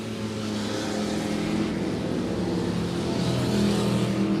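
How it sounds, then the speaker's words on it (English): Race cars roar around a dirt oval at Monett Motor Speedway during a heat race, a loud, continuous engine drone with steady revving that swells slightly toward the end. "Will Tatershaw starts his journey on hunting them down as they make their way into 3 and 4"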